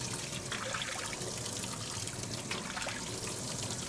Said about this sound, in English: So after 8 minutes, I'm going to drain it and I'm going to rinse it really well.